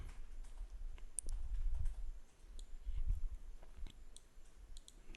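A few faint, sharp computer mouse clicks on a web page's connect button, set over a low steady room hum with no voices.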